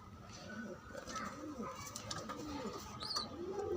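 Blue bar pigeons cooing in a loft, soft repeated low coos layered over one another with a few faint chirps and some background murmur throughout.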